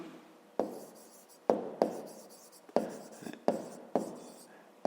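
Handwriting on paper for a fifth-grade maths exercise: a series of short, crisp scratching strokes, each starting sharply and trailing off, coming in irregular bursts close up with no voices.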